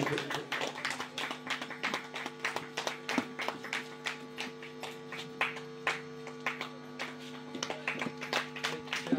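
An audience claps at a Vanmahotsav tree-planting celebration held by a village youth association in Bachharai, steady scattered hand claps over a constant mains hum in a modest gathering.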